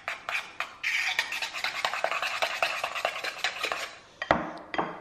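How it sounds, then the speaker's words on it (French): A whisk clatters quickly and rhythmically around a bowl as a hair-care preparation is mixed, a close, bright scraping that pauses briefly near the end and then knocks once against the rim. "Vous mélangez votre préparation."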